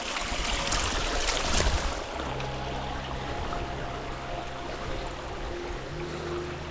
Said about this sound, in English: That's the first waterfall